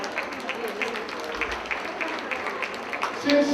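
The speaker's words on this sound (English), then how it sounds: "Please give the caterers a wonderful round of applause." An audience at a chamber of commerce dinner in Toronto applauds the caterers of an Indian fine-dining meal, a soft, steady patter of clapping in a room, moderately distant, without clear speech over it.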